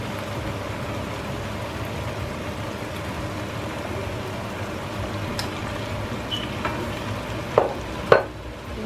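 Pork frying in a pan for Ilocano dinakdakan, fat sizzling in a steady crackling hiss with a few sharper pops and spatters near the end, no voices.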